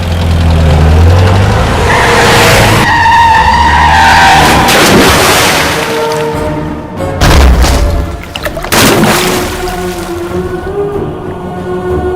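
A car started and driven off with tyres skidding, loud engine roar and screeching slides with heavy booming bursts, close and unbroken for several seconds.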